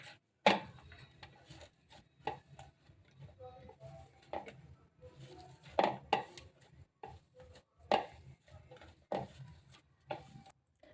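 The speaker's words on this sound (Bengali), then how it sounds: "এই যে এরকমভাবে হাত দিয়ে ডলে ডলে ছানাটাকে মেখে নিতে হবে" Soft hands rubbing and kneading fresh chhena for sponge rasgulla, quiet irregular squishing and pressing sounds with occasional sharper taps against a bowl, close and faint.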